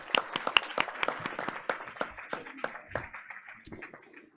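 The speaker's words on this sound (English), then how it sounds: "Let's give them all again a round of applause" A small audience at a board of education meeting gives a round of applause, scattered sharp hand claps at a moderate distance that thin out over about four seconds.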